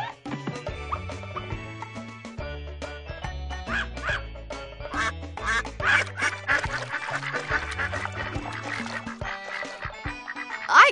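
Cartoon ducks quack in the video game Putt Putt Pep's Birthday Surprise. The calls come over a bright, steady musical backing that continues throughout and swells near the end.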